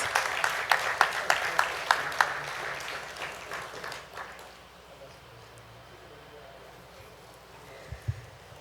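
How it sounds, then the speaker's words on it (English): An audience at an agriculture ministry awards ceremony claps for an honoree, a short round of applause that thins out after a few seconds into room noise, with a voice speaking and a brief clatter near the end. "Let's give Thandi a round of applause, please."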